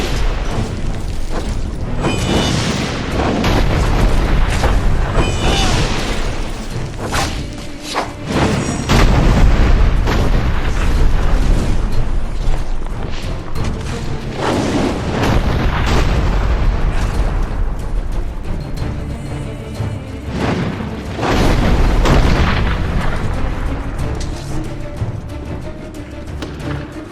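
Cannons in the video game Dungeon Siege 3 fire in loud repeated booms during a battle, heavy blasts rolling out every few seconds over a dense, noisy mix.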